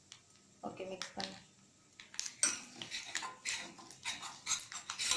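A spoon scrapes and clinks repeatedly against a pan while kolukkattai mixture is stirred over lowered flame, in an irregular rhythm of close metallic strokes with voices talking at times.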